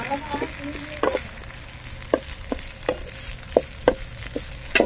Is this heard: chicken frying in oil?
yes